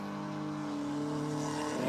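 A race car, the 83 car of Wayne Potgieter, runs at Redstar Raceway with a steady engine drone that swells louder toward the end as it approaches and passes.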